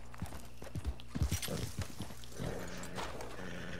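Horse hooves clopping in uneven steps with a neigh, from the Red Dead Redemption Online video game, fairly close with a dense game ambience underneath and no talk.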